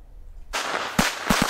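Firecrackers set off all at once in a small box, heard as a sudden burst of crackling noise followed by several sharp, loud pops at irregular intervals.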